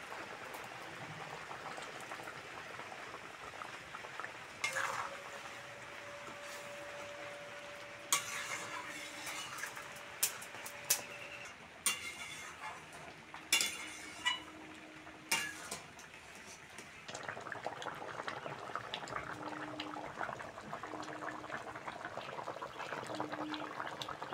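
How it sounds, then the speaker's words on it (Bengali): Fried prawns added to a spicy village-style curry simmering in a pan: soft bubbling and sizzle, a run of sharp spoon scrapes and clatters in the middle, then a louder, steadier sizzle toward the end. "ঝাল ভালোভাবে ফুটে গেছে, এবার ভেজে রাখা চিংড়িটা দিয়ে দেবো।"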